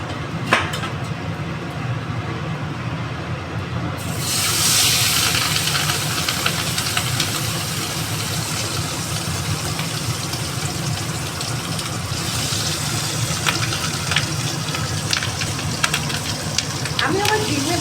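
Food fries in a pan, a low background hiss that swells into a loud, steady sizzle after a few seconds and continues with scattered crackles and pops.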